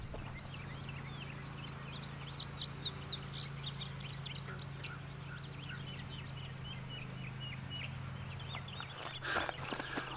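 A yellow-breasted chat calls outdoors in a series of faint, quick chirps and whistles over a steady low hum, heard from a distance with no talking.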